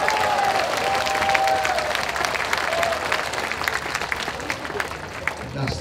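Sustained crowd applause fills a political rally, dense and steady throughout, with a few voices calling out over the clapping.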